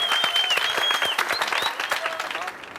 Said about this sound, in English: Let's give Wandile a big hand.